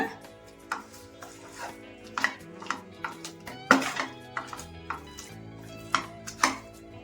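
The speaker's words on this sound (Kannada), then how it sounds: "ಇವಾಗ ಇದಕ್ಕೆ 1 ಟೇಬಲ್ ಸ್ಪೂನ್ ತುಪ್ಪ ಹಾಕೊಂತಾ ಇದ್ದೀನಿ. ಈಗ ಇನ್ನೊಂದ್ಸಲಿ ಮಿಕ್ಸ್ ಮಾಡ್ಕೊಂಡ್ಬಿಡೋಣ." Peda sweet mixture being mixed with a tablespoon of ghee, heard as a run of sharp, irregular scrapes and clinks of a utensil against the pan, close and fairly quiet.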